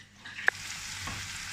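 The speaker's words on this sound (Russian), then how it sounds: "Сделаем хорошую зажарку лука." Chopped onion sizzles quietly in hot oil in a frying pan while a spoon scrapes and stirs it once, leaving a soft, steady hiss.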